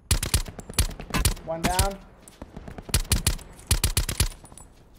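Rapid bursts of automatic gunfire in the shooter game Blackout Squads, several sharp volleys spread across the moment with a pause in the middle, loud and close, while players talk over the shooting.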